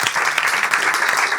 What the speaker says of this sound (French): J'aimerais ça qu'on applaudisse toute l'équipe du Point Virgule qui nous accueille aujourd'hui.